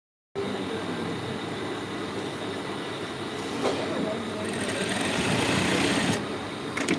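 A sewing machine stitches a pencil skirt with a continuous, fast mechanical whir that runs steadily for several seconds and grows a bit louder near the end, with faint talk in the background.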